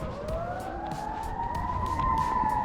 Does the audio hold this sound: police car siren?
yes